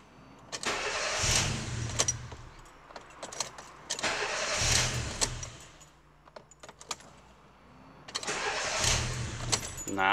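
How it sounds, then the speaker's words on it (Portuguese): Fiat Idea with a faulty starter motor cranks in three separate attempts, each a few seconds of rough whirring and grinding that never catches, with short pauses and faint clicks between tries, recorded close up. "ver se dá para escutar o defeito do motor de arranque"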